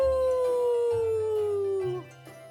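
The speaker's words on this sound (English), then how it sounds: "A coyote howled in the distance." A single long coyote howl drawn out in a slowly falling tone, clear and sustained for about two seconds before cutting off, with nobody talking over it.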